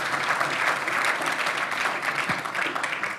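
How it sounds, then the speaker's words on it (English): Round of applause from an audience for a guest, Judge Schimel, at an indoor get-to-know event, a dense, even wash of many hands clapping at moderate distance throughout. "I want to give a round of applause to our guest, Judge Schimel"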